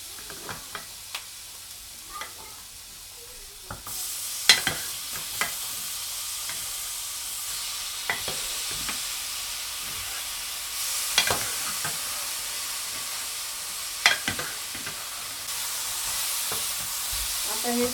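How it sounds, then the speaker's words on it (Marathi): Mutton fries with onion and masala in a pan for a Kolhapuri tambda rassa curry, making a steady sizzle. Scrapes and stirring knocks come through at intervals, close by and moderately loud, with no talking. "आता हे चांगलं फ्राय करून घेऊया. त्याला पूर्ण कांदा आणि मसाला लागला पाहिजे."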